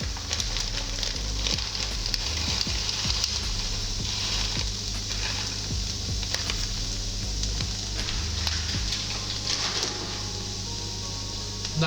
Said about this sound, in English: So once the onions have softened, you want to add your mince.